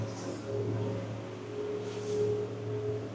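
Lancia Aprea 52 motorboat with quad V12 engines accelerating at around 39 knots, a steady low engine drone with a faint whine rising slightly, heard from on board without talk.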